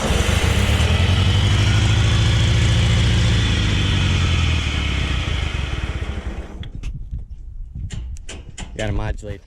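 A Satoh S650G plow tractor engine runs loud and close with a rough, rumbling idle that fades and thins out, leaving a few sharp knocks and clatters near the end.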